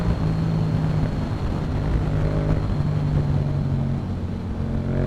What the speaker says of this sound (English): If I hit the gas, here I'm doing 80 miles in no time.